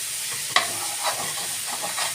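Onions and green peppers sauté in a frying pan, giving a soft steady sizzle with a sharp utensil scrape and gentle stirring sounds.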